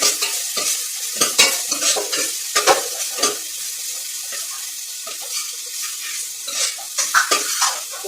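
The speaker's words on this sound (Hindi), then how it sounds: "ये भी फ्राई हो रहा है।" Steady crackling sizzle of pakoras frying in a pan for Punjabi kadhi, with bursts of stirring and scraping throughout.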